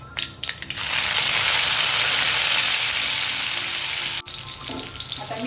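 Garlic dropped into hot oil after cumin and mustard seeds have crackled, a loud hissing sizzle that surges up and holds steady for several seconds before a brief break and a quieter, fading sizzle.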